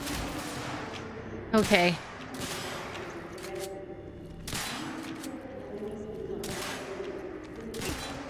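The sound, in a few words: shotgun fire in video game Quantum Break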